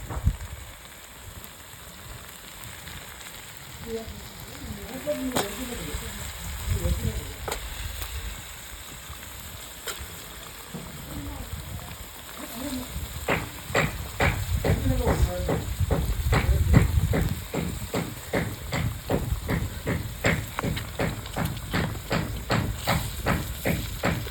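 Water comes to a boil in a pot on a wood-fired stove, a steady hiss overlaid with rapid bubbling and popping that grows into dense rhythmic clicks in the second half, close and fairly loud.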